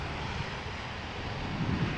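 A Pegasus Air airliner arriving from Istanbul at Amsterdam Schiphol, heard as a steady, fairly loud engine rumble with a low roar that holds evenly and swells slightly near the end, with no talking.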